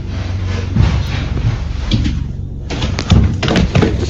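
Repeated heavy thuds and bangs from a supposedly haunted house, loud and irregular, with several sharp knocks over a constant low rumble.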